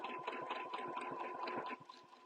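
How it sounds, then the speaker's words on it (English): A sewing machine runs in quick rhythmic bursts while stitching a quilt along a mandala template design, close and steady, then slows and stops near the end. "and then I'm just going to sew back up"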